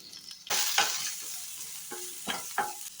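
Onion drops into a little hot oil and bursts into a loud, close sizzle, followed by crackling frying and a few clinking, scraping stirs in the pan for an egg masala fry, with no one speaking.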